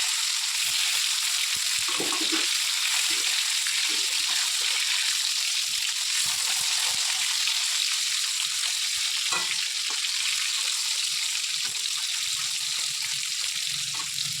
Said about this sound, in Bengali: এবার এই দিকটা ভেজে নেবো।